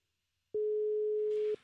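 A phone call rings through the Bluetooth channel of a Rodecaster Pro: one steady electronic ring tone lasting about a second, clean and fairly loud, with faint hiss after it.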